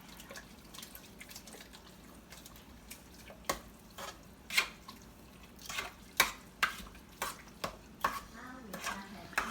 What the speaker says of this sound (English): And dash of vanilla. And then you mix.